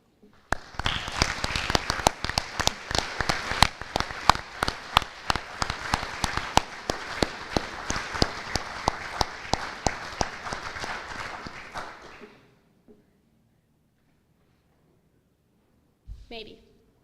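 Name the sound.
applause for award recipient at banquet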